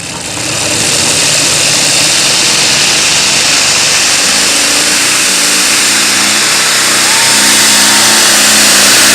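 A 2-stroke race car engine accelerates at the Eurocup 2013 final in Bouconville, a loud, close buzzing roar that builds and climbs steadily in pitch with no talk.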